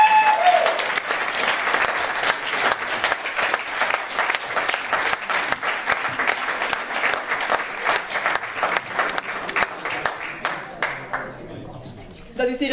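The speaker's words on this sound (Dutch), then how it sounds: "Dames en heren, nog een applaus voor de onthaalploeg." An audience at an awards event applauds a volunteer welcome team, loud sustained clapping from a crowd that fades out near the end.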